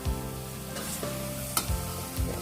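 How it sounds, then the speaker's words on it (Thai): Minced pork dry-frying in a pan for Thai larb, a soft steady sizzle broken by a few scraping stirs of a utensil against the pan, close and unaccompanied by talk. "มาคั่วให้เนื้อหมูสุกก่อนนะคะ"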